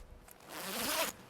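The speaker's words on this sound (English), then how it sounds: "we have our left zip" A single quick zipper pull on the left zip of a Carinthia Tropen sleeping bag, a close, short rasping zip lasting under a second, with no talk.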